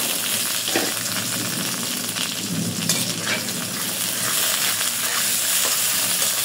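Chopped onion frying in hot oil with bay leaves, a loud, even hiss and crackle running steadily throughout, with small spatters and a few light scraping touches.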